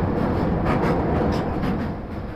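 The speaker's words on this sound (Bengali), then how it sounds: "মোটামুটি ট্রেনের স্পিড কিন্তু বাড়তেছে আস্তে আস্তে।" Parjatak Express passenger train on the Dhaka to Cox's Bazar line, slowly picking up speed after crossing a bridge: a steady, loud rolling rumble from inside the carriage, fading slightly near the end.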